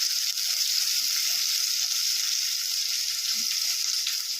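Chopped onions, cumin, mustard seeds and curry leaves sizzle in hot oil, giving a steady, bright, crackling hiss that holds evenly throughout with no voices.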